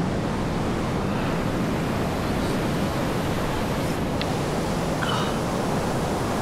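Sea waves wash continuously onto the shore at a seaside spot at sunset, a steady broadband surf hiss with some wind noise and no voices.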